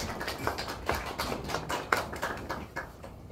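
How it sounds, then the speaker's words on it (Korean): Church congregation applauding at the close of a Sunday worship service, a fairly quiet, steady patter of scattered hand claps with no talk over it. "하나님께 영광의 박수."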